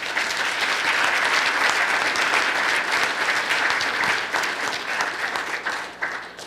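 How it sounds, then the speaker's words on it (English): Listeners at a New School discussion event give a guest sustained applause, many hands clapping in a full, even roar that holds steady and then thins and fades toward the end. "One more big round of applause."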